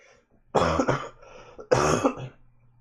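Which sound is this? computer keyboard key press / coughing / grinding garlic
coughing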